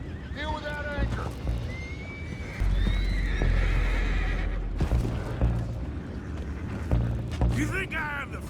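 Horses neigh and whinny several times in the video game Red Dead Redemption 2, with clip-clopping hooves, low rumbling and brief bangs in a busy action scene, with shouted voices over it.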